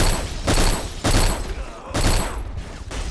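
Automatic gunfire in the shooter game Black comes in three loud, sustained bursts with short gaps between them, sharp and close, each burst a rapid rattle of shots.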